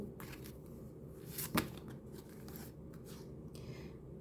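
Oracle cards being shuffled, soft close rustling and sliding with one sharper riffle near the middle, quiet under a low background hum.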